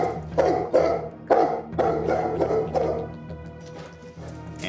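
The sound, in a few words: dog Casper barking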